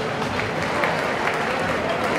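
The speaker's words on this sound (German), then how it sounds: "Applaus für euch, Dankeschön." A crowd applauds steadily at a DEG ice hockey club season-closing party, dense clapping with no break, while a voice speaking German can be heard over it.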